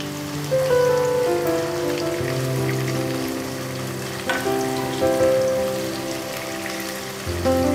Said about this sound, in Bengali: ছোট ছোট দুটো পেঁয়াজ দেওয়া আছে। এটা ভালো করে লালচে হয়ে ভেজে নেব।